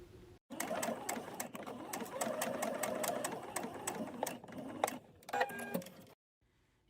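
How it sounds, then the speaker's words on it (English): A sewing machine rattles rapidly and close up while stitching a dart in fabric, running steadily for several seconds, then a few short stuttering bursts before stopping into near silence. "you're just going to keep sewing all the way until you hit the point"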